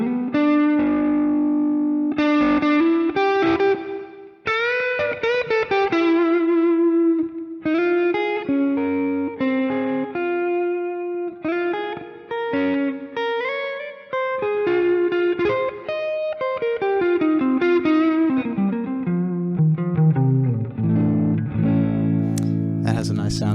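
An electric guitar on its neck pickup through a SmartPedal amp model plays a melodic lead with bends and sustained notes in a mildly driven, effected tone, ending on a low chord.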